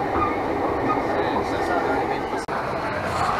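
A Tokyo metro train runs at Shinjuku station, a steady loud rumble of wheels and carriages filling the platform, with a brief dropout midway; voices are faintly present underneath.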